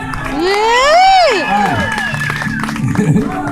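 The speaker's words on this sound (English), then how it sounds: "They can hear your round of applause." An audience at a hypnosis show cheers and shouts with scattered clapping, voices rising in loud excited whoops that peak early and then trail into mixed crowd noise.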